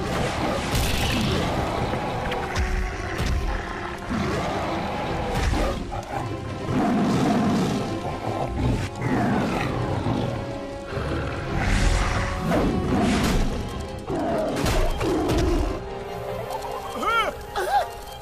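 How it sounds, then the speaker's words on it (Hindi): A cartoon dragon roars in the Motu Patlu animated series, with several loud, rough roars rising and falling over about eighteen seconds amid crashing background effects. "अब तो ड्रैगन भी आ गया है।"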